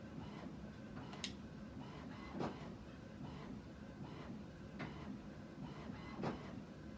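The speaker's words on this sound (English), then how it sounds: "Sorry about my printer." A printer runs in a room, giving a faint, steady mechanical whir with soft rhythmic clicks and clacks repeating over several seconds.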